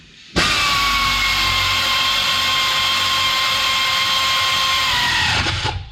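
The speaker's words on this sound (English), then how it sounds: "Now I'm going to go ahead and snug them in using a 3/8 air ratchet." A 3/8 air ratchet runs in one steady, loud whine for about five seconds, snugging wheel hub bolts on a 2016 Nissan Rogue with a loose hub, then cuts off.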